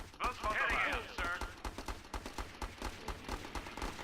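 Rapid machine gun fire in the strategy game Battle Islands Commanders, a steady stream of evenly spaced shots, moderately loud, with a voice talking partway through.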